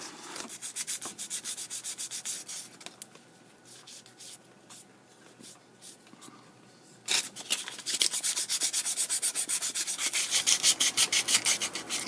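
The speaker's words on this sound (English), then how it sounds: "when I'm sanding these rivets, I want the sand scratch marks all to go in the same direction on the final sanding" Sandpaper rubs by hand over the rivets of a knife made from a saw blade, steady back-and-forth scratching strokes close by, quieter in the middle and then faster and more even toward the end.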